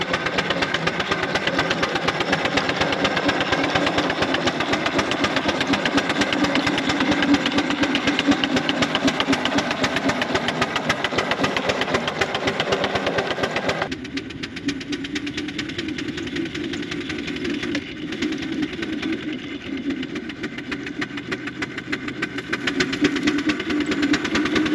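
A 4-inch Foster steam engine running on a winter steam test, giving a continuous close, rapid chuffing beat with mechanical rattle that eases slightly partway through.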